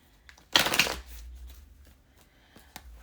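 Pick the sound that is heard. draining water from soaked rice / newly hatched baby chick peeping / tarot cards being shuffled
tarot cards being shuffled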